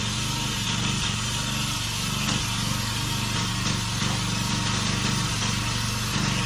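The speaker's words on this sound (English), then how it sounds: "That grinding noise is starting to kind of go down a little bit." A John Deere 220 E-Cut reel mower runs steadily while backlapping, its engine droning along with a continuous grinding whir from the reel. The sound is constant and moderately loud, with no voices.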